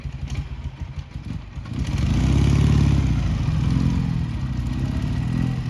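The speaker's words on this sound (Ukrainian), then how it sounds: "Зараз Саня прибирає мотоцикл і Льоня буде пробувати виїжджати." A motorcycle engine idles, then revs up loudly and holds a strong, steady drone as the bike accelerates away close by, with no talk over it.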